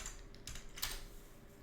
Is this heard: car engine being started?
no